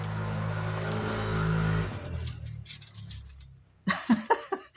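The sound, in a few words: noisy motorbike passing by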